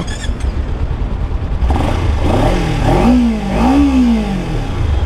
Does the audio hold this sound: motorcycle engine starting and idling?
yes